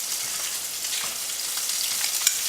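Chicken pieces fry and brown in a pan ahead of a lemon caper sauce, giving a steady, close hiss of sizzling fat with faint crackles throughout and no talking.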